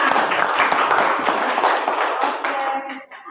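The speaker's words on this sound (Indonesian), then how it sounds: "Berikan tepuk tangan" Students in a classroom applaud after a fellow student's presentation, a dense burst of clapping from a group that fades out near the end.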